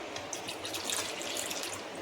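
Water streams steadily into a pot of chicken khichda, a continuous splashing pour with a bright hiss, close by, with no talking.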